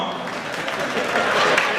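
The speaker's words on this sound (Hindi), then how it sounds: "यहाँ तालियां आती हैं।" An audience at a Hindi comic poetry gathering breaks into applause, a brief, dense burst of clapping heard at moderate distance that fills the short moment evenly.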